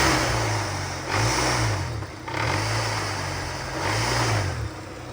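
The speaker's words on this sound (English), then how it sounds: "It sounds like there's a bunch of rocks in my transmission or something at all times." K-swapped Mini Cooper with a rattling transmission, running with a steady engine drone that swells and eases in three repeated revving cycles, loud and close with a constant gritty clatter throughout and no talk.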